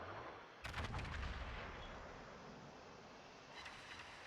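Battleship Vermont unloading its fore and aft main guns in World of Warships: a heavy booming volley lands near the start, then a long rumbling tail and a fainter second burst toward the end.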